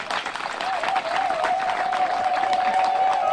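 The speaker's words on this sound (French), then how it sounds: "Pardon, applaudissez très fort" At a village chief's inauguration ceremony in Manengouba, a crowd claps steadily and moderately loud, with a sustained tone running beneath the applause.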